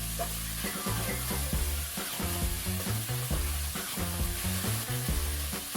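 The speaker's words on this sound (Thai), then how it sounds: "แล้วก็เริ่มผัดทุกอย่างให้ละลายให้เข้ากันให้หมดเลยครับ" Oyster sauce and sugar are stir-fried in a pan for basil stir-fry, a steady close sizzle broken by rhythmic scraping and clacking of a spatula on the pan, with no talking.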